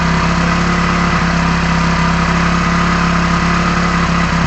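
A Hero HF Deluxe motorcycle engine runs at high revs, above 4000 RPM, making a loud, continuous, unbroken drone with a steady buzzing vibration and no pauses.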